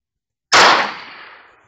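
A single sharp gunshot rings out in the Prop Hunt video game after silence, loud and close, with a burst that decays over about a second.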